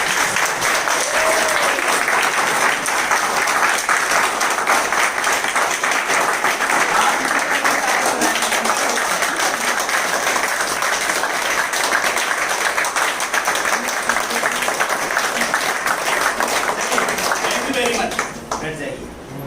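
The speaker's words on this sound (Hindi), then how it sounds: "जो खड़े हो जाएंगे अपनी जगह पे और तालियां बजा देंगे अपनी लिए" An audience stands and claps together at a seminar in India, a loud, dense and continuous applause lasting nearly twenty seconds before easing off at the very end.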